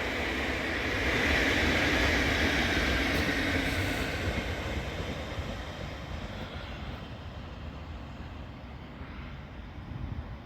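A London King's Cross to Edinburgh Waverley passenger train passing Colton North Junction, a loud steady broadband roar and rush that peaks early and slowly fades, with no voices.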